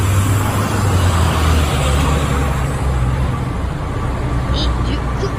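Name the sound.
street traffic on Fifth Avenue, New York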